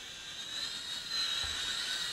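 A Syma X5SC-1 toy quadcopter drone flying indoors gives a steady high-pitched whine of small spinning rotors, close and constant, swelling slightly louder partway through.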